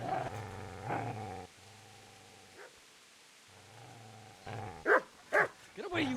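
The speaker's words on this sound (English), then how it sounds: "Get away, you mutt!" A dog in Kingdom Come: Deliverance snarls and growls at the player, then gives several sharp, close barks near the end, with game voices and ambience mixed in.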